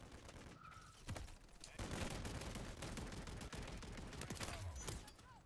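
Dense gunfire from Call of Duty Modern Warfare 3, loud overlapping bursts and rapid volleys running nearly the whole time, with shotgun and automatic fire layered in a chaotic multiplayer firefight.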